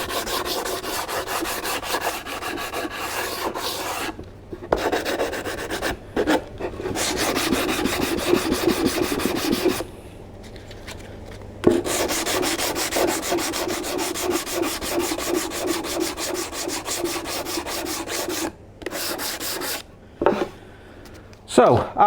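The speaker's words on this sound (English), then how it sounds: "So I'll just go over sanding all of these" Hand sanding of laminated oak edging on a 27 ft Nauticus cruiser boat under restoration, steady close rasping strokes in long bursts broken by short pauses.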